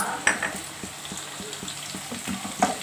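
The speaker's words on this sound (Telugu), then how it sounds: "ఉల్లిపాయ మంచిగా వేగింది కదండి." Chopped onions frying in a pan for a ridge gourd and tomato curry, a steady crackling sizzle with light stirring scrapes and a couple of soft utensil clinks.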